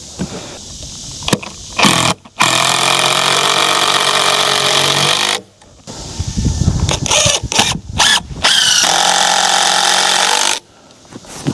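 A power tool fastens a board or piece of LVL in repeated loud, close bursts of whirring motor noise, each lasting a few seconds and separated by short pauses.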